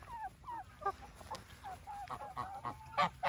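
Geese honking in a poultry yard, a string of close, nasal calls in short irregular bursts, quiet overall with a louder honk near the end.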